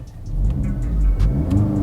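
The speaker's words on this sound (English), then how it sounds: "The car is way too quiet on startup." Car engine just started and idling quietly, a low steady hum with a couple of faint mechanical ticks and a slight rise in revs, close by with no talking.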